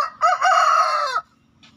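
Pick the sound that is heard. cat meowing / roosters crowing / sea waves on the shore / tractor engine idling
roosters crowing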